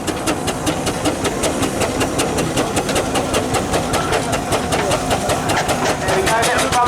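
A full-size Saturn 8 horsepower steam traction engine working hard in top gear at a country show arena, with rapid, steady chuffs from the chimney beating evenly throughout over a constant mechanical hiss and rumble.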